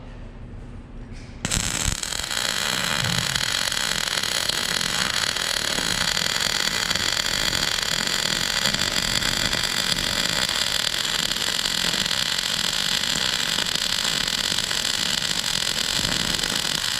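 MIG (GMAW) welder laying a horizontal padding weld, a steady loud crackling hiss that starts abruptly after a short quiet moment and runs continuously without a break.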